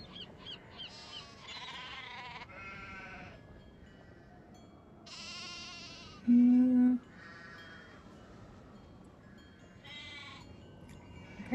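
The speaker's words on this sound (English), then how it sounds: "How do we shear the sheep?" Sheep bleating inside the Nancy Drew game The Haunting of Castle Malloy, several wavering bleats spread across the clip, plus one short loud steady tone partway through.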